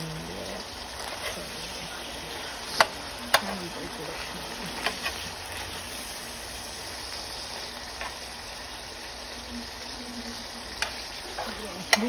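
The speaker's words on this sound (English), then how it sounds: "currently making a taco, the meat is browning right now" Taco meat browns in a pan with a continuous, moderately loud sizzle, broken by occasional sharp clicks and scrapes of stirring over about twelve seconds.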